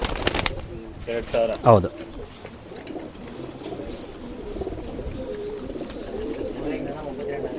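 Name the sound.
pigeons cooing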